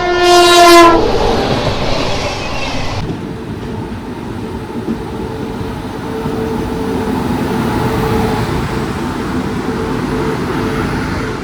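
The 12763 Padmavati Superfast Express, running between Tirupati and Secunderabad, sounds a loud horn blast for about a second, then a steady, continuous rumble of the moving train carries on, heard close from on board.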